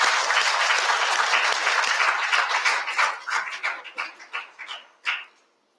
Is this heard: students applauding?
yes